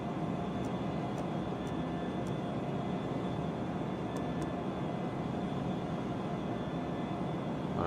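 Embraer E190 jet airliner climbing, heard as a steady, even cabin roar of engine and airflow noise throughout, with a few faint high ticks above it.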